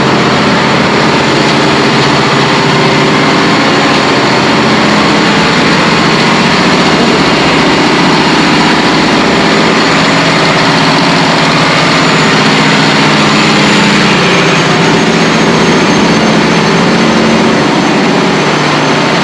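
Machinery in the engine room of a platform supply vessel runs loudly and without a break, a dense, steady roar with droning engine hum that never lets up across the whole stretch.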